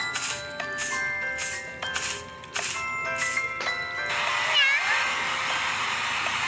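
A kitten meows repeatedly while being bathed with soap and water, several clear separate cries in a steady run, close and fairly loud over a faint background hiss.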